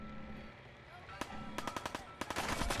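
Gunfire in a Fallout video game: a sharp single shot followed by a rapid burst of several evenly spaced shots, then another quick volley, over low background game ambience and a faint voice.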